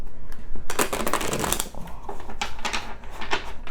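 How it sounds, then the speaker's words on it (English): Crisp, rapid riffling of a tarot deck being shuffled, several quick bursts in a row, close and fairly loud with no talking. "I'm really trying to like not shuffle these cards so hard"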